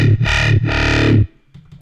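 Heavy, distorted synth bass growl in two long swelling notes whose tone shifts and wobbles, loud and close, then a brief quiet tail.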